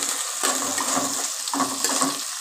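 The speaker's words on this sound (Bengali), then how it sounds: "লঙ্কা কুচি আর পেঁয়াজ কুচিটা আগে ভেজে নিচ্ছি" Chopped onion and chilli frying in a pan for chowmein, a continuous sizzle with two bursts of scraping and stirring, no talking.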